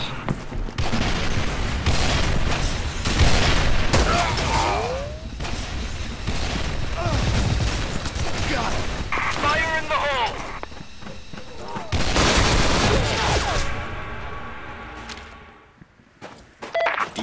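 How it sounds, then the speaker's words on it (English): A frag grenade is tossed and bursts in a first-person shooter firefight, with dense, loud gunfire and booming blasts running throughout, brief game radio voice calls mixed in, and a sharp explosion burst near the end. "投掷手榴弹。 Frag out! Frag out!"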